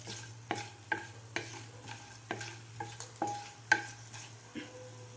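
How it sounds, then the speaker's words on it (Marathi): Whole spices fry in half a spoonful of oil, a soft sizzle punctuated by a series of sharp clinks and scrapes from stirring at roughly half-second intervals, close and quiet. "आता व्यवस्थित आपल्याला हे मसाले फ्राय करून घ्यायचे आहेत तेलामध्ये."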